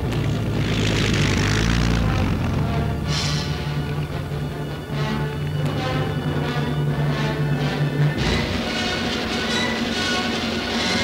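German Luftwaffe transport aircraft of WWII droning overhead, a loud sustained propeller engine roar with steady tonal hum throughout, no voices.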